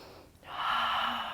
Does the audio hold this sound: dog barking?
no